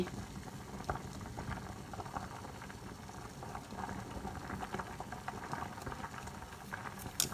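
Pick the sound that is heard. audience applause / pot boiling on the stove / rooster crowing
pot boiling on the stove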